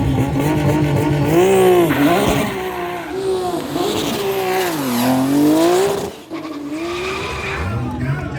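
A full-blown race car on 275 street tires makes a quarter-mile drag run at a Thai drag racing event, its engine roaring loud and close with repeated rising pitch sweeps through the gears and a brief dip near the end.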